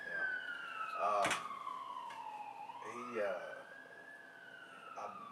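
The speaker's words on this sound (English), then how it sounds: "looks like we got ambulance rolling by here." An ambulance siren rolls past, its wailing tone sweeping down and then back up, fairly prominent above a background hum with a few brief knocks.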